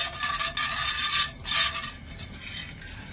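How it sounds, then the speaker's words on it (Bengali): Sugar syrup with cardamom stirred in a pan for a sweet made with ripe bael fruit, giving a steady scraping, swirling rasp of a utensil against metal in repeated strokes, close and fairly loud, with no talking. "সব কিছু ভালো করে মিশিয়ে চিনিটা গলে যাওয়া পর্যন্ত অপেক্ষা করবো"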